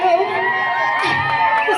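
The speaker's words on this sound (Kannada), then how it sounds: "ಜೋರಾದ ಚಪ್ಪಾಳೆಯ ಮೂಲಕ ವೇದಿಕೆಗೆ ಸ್ವಾಗತಿಸೋಣ" Crowd at a school honoring ceremony greeting a student athlete onto the stage, loud close cheering and whooping with children's voices shouting over the noise, brief and lively.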